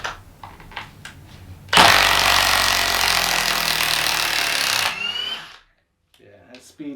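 A Milwaukee M18 Fuel 1/2-inch mid-torque impact wrench with friction ring, on setting 4, removing a bolt: one loud, close burst of rapid hammering lasting about three seconds, with quieter handling noise before and after.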